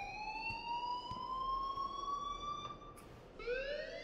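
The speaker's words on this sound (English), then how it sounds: "please turn off that alarm since that's your job" Alarm in the video game Life is Strange, a steady rising electronic siren tone with harmonics sounding continuously, then restarting with a new upward sweep near the end.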